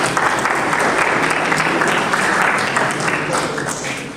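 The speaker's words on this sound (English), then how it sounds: "A big round of applause." An audience at a university lecture on design thinking applauds the Provost as he comes on stage, thick continuous clapping that stays loud and even for the whole stretch with faint voices mixed in.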